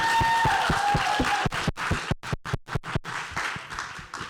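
An audience at a Micheaux social at AMFA claps for a performer. Dense, loud applause thins after a second and a half into scattered, separate claps that fade out toward the end.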